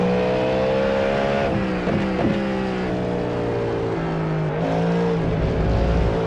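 A Cadillac GTP prototype race car in the iRacing sim roars with a loud, steady engine drone, briefly dipping and rising in pitch through gear changes and throttle lifts, heard alone without talk.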